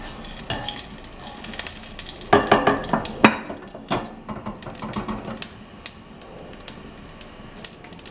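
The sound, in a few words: mustard seeds spluttering in hot oil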